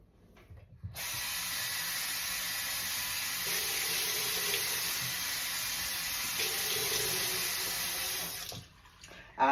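A kitchen faucet runs steadily for about eight seconds while pre-cooked shrimp are rinsed under it, a close, even hiss of water that briefly shifts in tone as the shrimp pass through the stream before it shuts off.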